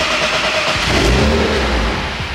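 A BMW E46 engine turns over and catches, then revs up loudly and close before the pitch settles back, with no talking.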